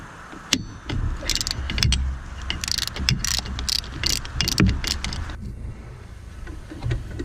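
A hand ratchet wrench clicking as it loosens alternator bolts on a 2006-2011 Honda Civic Si with a K20Z3 engine, quick bursts of close metallic pawl clicks with brief pauses, followed by quieter handling noise.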